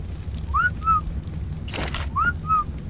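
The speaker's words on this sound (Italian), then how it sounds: "Ma che è sto fischiettino?" Two identical two-note whistles, a rising chirp then a flat tone, sound in the video game ARK: The Island, separated by a brief hissy burst over a low ambient hum.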